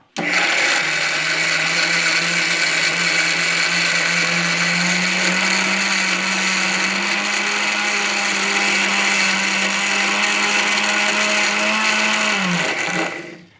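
A mixer grinder whirs steadily at close range for about thirteen seconds, grinding shallots, mango powder, rock salt and coconut oil into a chutney, with a sharp start and stop and a slight pitch dip just before it cuts out.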